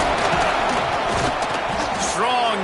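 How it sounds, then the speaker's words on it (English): A loud, dense roar from a packed crowd at an LSU college football game in Death Valley, sustained throughout with shouts and whistles rising near the end. "this crowd trying to help keep them there"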